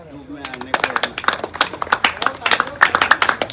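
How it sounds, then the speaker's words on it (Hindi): Crowd clapping at a prize distribution for the 2025 Nagpur pigeon flying tournament begins after a brief voice, then builds into brisk, close, irregular claps from a small gathering that carry on to the end. "कृपया तालियों से इनका स्वागत करें।"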